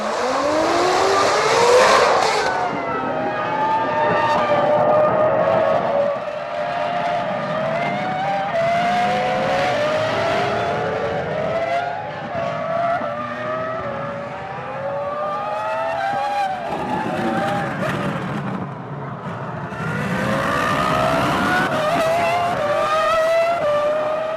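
Formula 1 cars race at Interlagos in São Paulo during the 2004 Brazilian Grand Prix, with a train of cars battling closely. Loud, screaming engines rise and fall in pitch as they pass and shift, with occasional tire squeal.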